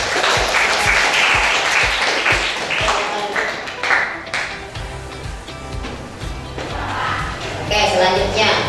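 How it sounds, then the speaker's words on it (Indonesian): Applause from a school classroom audience fills the room, with dense clapping at the start that fades and then swells again, and voices talking through it. "kasih aplaus buat."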